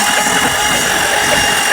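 A waterlogged Honda 2000 Odyssey engine cranks over continuously, making a loud, dense mechanical whir and hiss, heard up close with no pauses.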